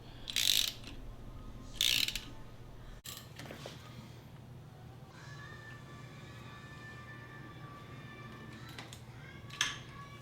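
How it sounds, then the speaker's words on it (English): A hand ratchet works a bolt against the crankshaft pulley to pull it off while the timing cover is removed, giving two short sharp clicking bursts near the start and another near the end over a steady mechanical hum. "I'm going to try and ratchet this against that and try and bring the pulley off."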